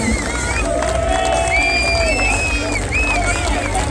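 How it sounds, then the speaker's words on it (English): Crowd noise at a rugby league championship presentation, with cheering, whoops and shouts rising over a busy hubbub of voices; people talk within the lively, continuous din. "Let's have the Kandy team come up on stage with a good round of applause"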